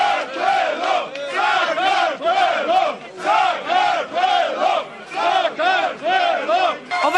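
A crowd at an opposition party office cheers and applauds in a continuous roar that swells rhythmically, as if chanting in unison, loud and sustained throughout.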